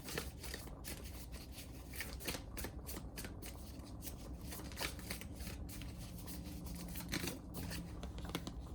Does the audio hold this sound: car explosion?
no